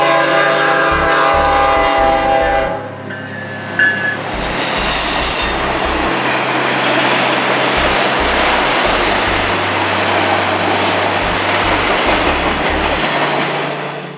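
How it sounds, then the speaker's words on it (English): Norfolk Southern 218, a northbound freight train hauling empty auto racks, rumbles past at close range, loud and steady, with wheel squeal and rail clatter. A horn-like tone sounds briefly near the start. "This is Norfolk Southern 218, northbound empty auto racks coming by with a very friendly crew on the head end."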